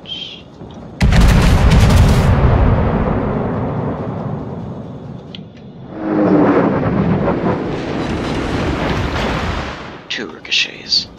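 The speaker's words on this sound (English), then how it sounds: "I'm close enough where I can do a broadside salvo" USS Montana firing a broadside salvo in the video game World of Warships, a huge booming blast with a long rumbling roll, then a second heavy rumble, with a few sharp clicks at the end.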